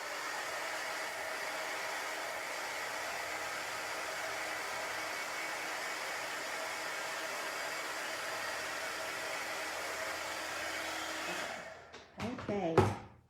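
A hair dryer blows steadily and close by onto chalk-painted wooden pieces, a constant airy roar that cuts off near the end and gives way to a few brief handling clicks.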